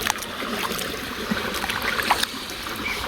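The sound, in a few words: washing raw mangoes in water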